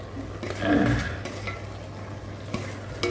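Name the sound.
stirring brinjal curry in a pan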